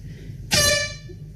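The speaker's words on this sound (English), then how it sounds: "he will be the person that will sound the air horn." Emergency air horn at an LNG terminal site gives a single loud, sharp blast with a rich harmonic tone, lasting about a third of a second before fading. The blast comes after a quiet stretch.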